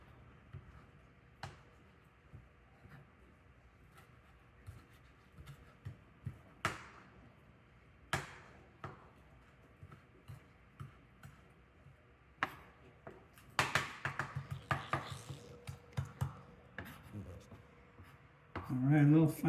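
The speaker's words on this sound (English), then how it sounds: "we're going to cut those up fine" Fresh basil and parsley leaves being finely chopped with a knife, heard as scattered sharp taps on a board with pauses between them, then a denser run of quick, close chopping strokes near the end.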